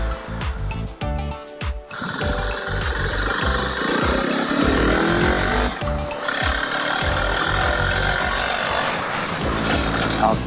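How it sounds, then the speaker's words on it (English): Motorbike engine while riding, a loud rumbling exhaust that rises and falls with throttle changes and gear shifts, close up, with wind noise and brief sharp revs. "I absolutely love this bike."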